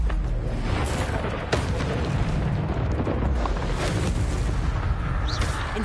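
Incendio fire spell cast in a Hogwarts video game, a loud, steady roaring rumble of flame with a sharp crack about a quarter of the way through, dense and continuous for the whole stretch with no voices.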